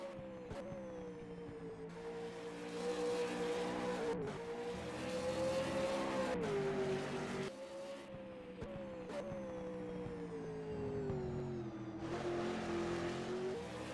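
A V8 race car at a night league round at Sydney Motorsport Park drops a couple of gears into turn 4, its loud engine roaring with repeated sharp rev blips and pitch drops between shifts, close and steady with no talk.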